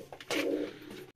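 A single soft, throaty coo comes from a nearby pigeon in a Royal Teddy and Ferozpuri breeding loft. The call is brief and low, rising to a murmuring swell, with light background noise.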